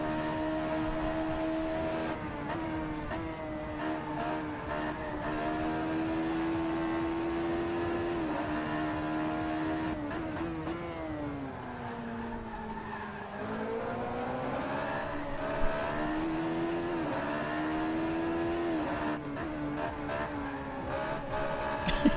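A Radical SR3 race car in Assetto Corsa holds a loud, steady engine drone with its pitch rising and falling as the throttle is blipped, with a brief dip around the middle and no speech.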